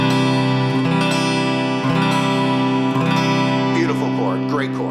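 A suspended 2 chord strummed on five strings of a guitar rings out in a sustained wash, re-struck about every second with bright, shimmering overtones, loud and close.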